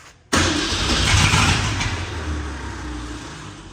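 A 1967 Ford Mustang engine cranks and catches after a short quiet moment, then settles into a loud, steady rumble up close, with the revs easing off slightly toward the end. No one talks over it.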